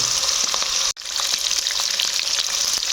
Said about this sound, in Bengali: আমি এবারে চিংড়ি মাছগুলো তেলের মধ্যে দিয়ে দেবো একটু ভেজে নেব